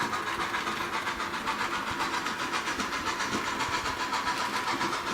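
An MTH model train engine's sound effects play as a steady rhythmic chuffing with metallic clickety-clack, moderately loud and close, running continuously without any talking over it.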